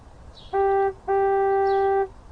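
A car horn sounds at a gate in two steady honks, a short one followed by a longer held blast, loud and clear over quiet background.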